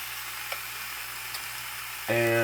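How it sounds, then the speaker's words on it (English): Onions and beer sizzling on a hot plate, a steady close sizzle with a low hum, then a louder buzzing tone kicks in near the end. "Now I'm also going to get some onions going with my hot plate. Add some beer with that too."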